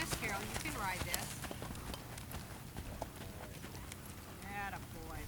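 A horse loping, with a steady rhythmic patter of hooves at a moderate distance, faint and partly under people talking.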